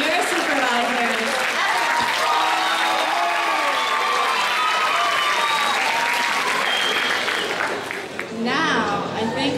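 Students at a science olympiad closing ceremony applaud their supervisors, sustained loud clapping filling the hall, with cheers and scattered voices mixed in before it thins slightly near the end.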